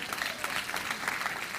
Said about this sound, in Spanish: denle un aplauso al Señor por ella.